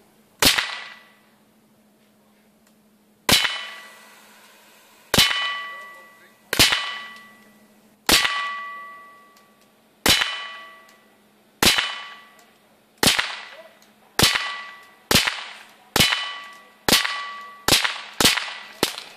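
Sharp cracking pops of Kvintor explosive air gun pellets bursting on impact, fired from about five metres, about fifteen in all, spaced out at first then coming faster, each with a bright ringing tail, against a steady low hum.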